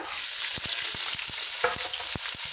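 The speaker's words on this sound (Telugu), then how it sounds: "పచ్చిమిర్చి మంచిగా ఫ్రై చేసుకుందాం" Thirty green chillies fry in hot oil for a chicken curry, a steady bright sizzle broken by sharp clacks of a spatula or ladle against the pan, close and fairly loud, with no talking.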